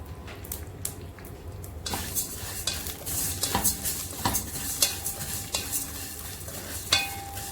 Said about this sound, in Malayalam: അതിലേക്ക് 1/2 കപ്പ് സേമിയ ചേർത്ത് വറുത്തെടുക്കാം.